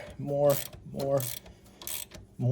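A ZKTool fuel injector removal tool is turned against growing resistance on a 2010-2021 Range Rover (L322/L405), giving three squeaky, ratcheting mechanical strokes close by in a quiet workshop.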